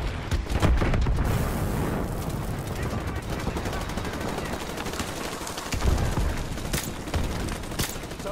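Sustained machine gun fire in Call of Duty Modern Warfare Remastered, a loud continuous rattle of rapid shots with heavy booms mixed in, steady throughout with brief louder bursts near the end.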